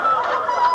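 A voice imitates a duck with short nasal honking quacks in a quick continuous run, close and fairly loud.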